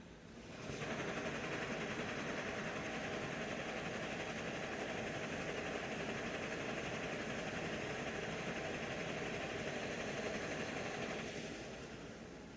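A Coleman 508 camp stove burns steadily after warming up, giving a continuous close roaring hiss that holds even for several seconds before fading slightly at the end.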